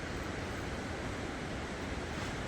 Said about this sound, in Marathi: पाण्याचा आवाज ऐक फक्त पाण्याचा आवाज आहे